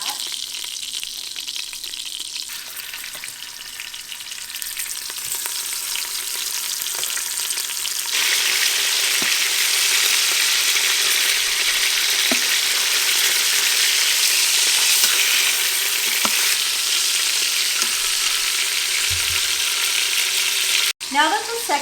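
Carnitas frying in oil inside an Instant Pot, a loud continuous crackling sizzle that swells partway through and holds steady, with a sharp knock near the end.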